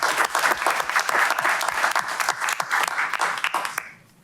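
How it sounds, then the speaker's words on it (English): Audience applause at a Cleveland Heights city council meeting, a dense burst of clapping from a room of people that holds steady for several seconds and then fades out. "So let's give all of them a round of applause."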